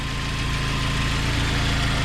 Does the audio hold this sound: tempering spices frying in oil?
no